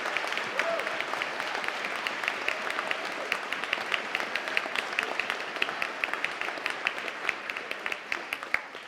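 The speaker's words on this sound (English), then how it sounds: "let's give everyone a round of applause again" An audience at an elementary school orchestra recital claps steadily throughout, a dense, sustained round of applause heard from within the room, with faint voices mixed in.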